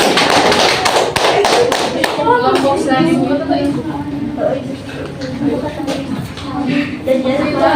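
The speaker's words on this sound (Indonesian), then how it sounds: "tepuk tangan kelompok 2" Applause in a primary-school classroom for a student group: many hands clapping in a dense patter, with voices speaking and calling out over it throughout.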